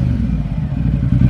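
A motorcycle fitted with a new Termignoni race exhaust revs nearby, a loud, deep, throaty rumble with a steady low growl throughout the short burst and no voices over it.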